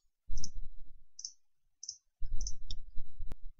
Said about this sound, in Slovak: Teraz držím Shift a klikám na to, čo chcem vymazať.